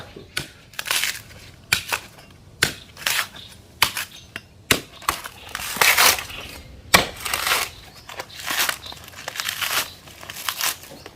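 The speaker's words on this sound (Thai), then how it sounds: "เราก็มาลิดพร้าวหรือว่าปอกมะพร้าวนะครับ" A coconut being peeled by hand while preparing an old-style Thai santol dish: repeated close, dry cracking and tearing strokes of husk fiber, irregularly spaced, with scraping rustles between them and no talk.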